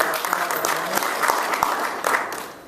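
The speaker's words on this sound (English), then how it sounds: "Please give a round of applause." Conference audience applauding after a panel talk, a brisk wash of claps with a few sharper hits, tapering slightly toward the end, with a voice faintly underneath.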